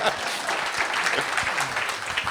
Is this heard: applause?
yes